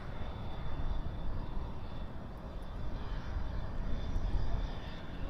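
Airliner departing the west side of Dallas/Fort Worth International Airport at night, a steady broadband engine roar heard from a distance, swelling slightly and sustained throughout with no talking.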